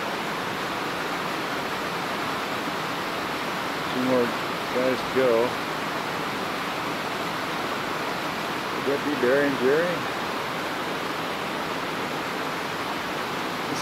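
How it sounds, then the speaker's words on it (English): Mountain creek above Skull Lake in the Beartooth-Absaroka wilderness rushes steadily as hikers ford it, a constant close broadband roar with someone speaking briefly twice over the water. "This is the creek above Skull Lake."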